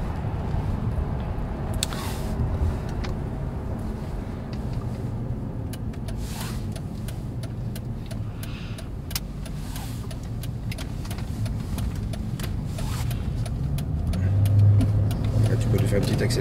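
A Mercedes SL 500 R230 drives along with a low, steady engine and road rumble that rises slightly near the end. People talk over it from inside the cabin throughout.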